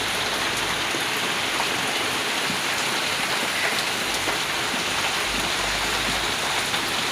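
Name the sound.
heavy rain falling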